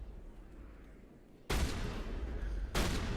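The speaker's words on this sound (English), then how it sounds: "this is the second time we've gotten into a gunfight on the Citadel" Gunfire bursts out in a Mass Effect gunfight on the Citadel, loud dense volleys erupting after a quieter stretch and then surging again near the end, with no talking over them.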